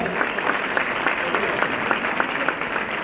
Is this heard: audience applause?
yes